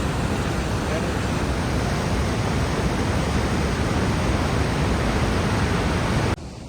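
Rhine Falls in Switzerland, a large waterfall, gives off a dense, steady roar of crashing water that holds unbroken at full loudness and drops away only in the final moment.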